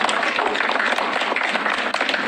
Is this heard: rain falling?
no